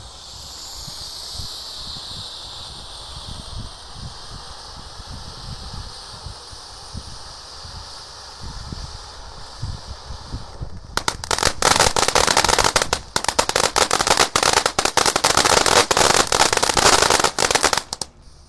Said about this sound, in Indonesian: Lanjut yang kita nyalakan di sini ada Fantastic Fountain.